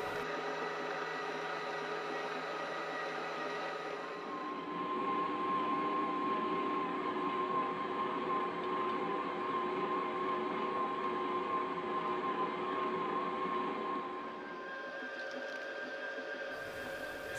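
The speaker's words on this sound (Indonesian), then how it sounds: "Saya mengocoknya menggunakan mixer sekitar 10 menit" An electric mixer beats donut dough with margarine, a steady motor whine holding for the whole stretch, rising in pitch and load midway and easing near the end, alone with no talk.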